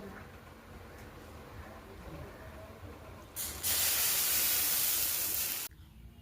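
Semolina chitoi pitha fry in a pan. A quiet stretch gives way to a sudden loud hiss that holds for about two seconds and then cuts off sharply.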